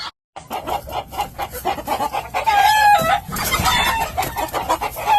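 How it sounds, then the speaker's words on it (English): Morgan hens cluck in short bursts while a Morgan rooster crows nearby, the birds close and fairly loud with no talking. "I just put my Morgan rooster in there with the 2 Morgan hens"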